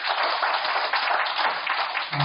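Audience at a book launch event for a book about Incheon, clapping steadily and densely throughout, a continuous wash of applause with no talk over it.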